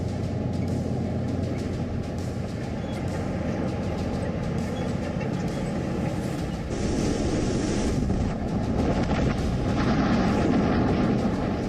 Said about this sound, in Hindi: लद्दाख की धरती T-90 भीष्म टैंक के हुंकार से कांप उठी।